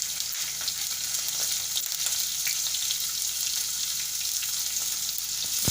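Onion and green chili sizzle steadily in a pan of hot oil, a continuous bright hiss with faint crackles, close and alone without any talk.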